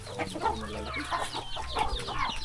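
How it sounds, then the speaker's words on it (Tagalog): A flock of chickens in a rural province yard clucks in overlapping bursts, with several birds calling at once nearby in an irregular busy chatter, no talk. "Daming manok oh."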